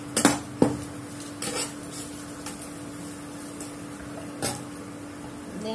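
Egg stirred and fried with ponnaganti greens in a pan over a low flame, giving a few clinking scrapes of a spoon against metal early on and again later over a faint steady sizzle, with no talk.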